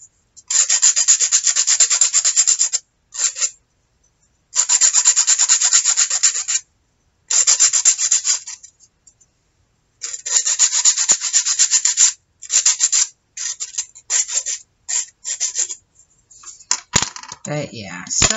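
Rough-grit sandpaper rubbing a salt dough tag by hand, scratchy gritty strokes coming in bursts of a second or two with short pauses between, close and fairly loud.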